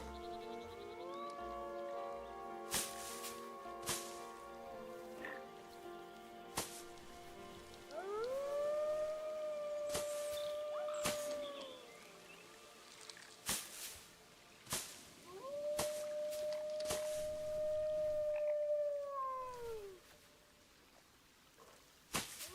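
Wolves howl in the Planet Zoo video game at the Mountain Pass Zoo, long rising and sustained tones swelling in two drawn-out calls over a busy ambient background of clicks and park noise, moderately distant.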